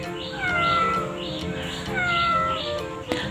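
A cat meow sound effect played from an app meows repeatedly, about four drawn-out, tonal meows in a steady rhythm, clear and close, followed by a brief tap at the end.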